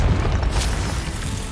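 A Confringo spell bursts in Hogwarts Legacy, a short heavy boom with a sharp crack partway through and rumbling low energy.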